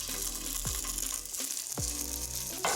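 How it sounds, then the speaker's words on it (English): Fish frying skin side down in a large frying pan, ahead of prawns for a seafood laksa, gives a steady loud sizzle with a few soft clinks of utensils on the pan. "we're just going to put the fish in"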